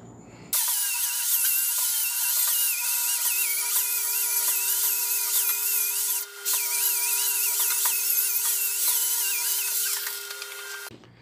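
A Flexsteel disc polishes a flat steel plate, giving a loud, steady high whine with a brief dip as contact eases, then running on until the tool stops.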